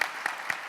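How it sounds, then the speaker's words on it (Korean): Audience at a Yonsei University alumni New Year gathering applauds Korea's first female foreign minister, Kang Kyung-wha; a short, fairly faint burst of steady clapping from a crowd indoors. "박수 한번 치시죠."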